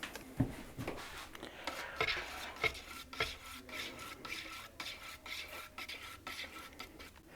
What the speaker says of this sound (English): let me grab a stirrer because that needs some more mixing